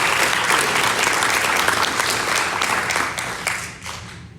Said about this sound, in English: So one more last round of applause for our winners today.